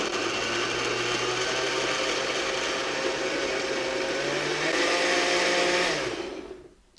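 A blender whirs steadily for about six seconds, chopping hot chestnut soup under a towel-covered lid, with a low motor hum and a bright whine that rises slightly before the motor winds down and stops.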